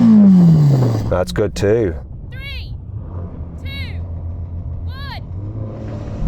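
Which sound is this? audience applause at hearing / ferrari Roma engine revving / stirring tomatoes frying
ferrari Roma engine revving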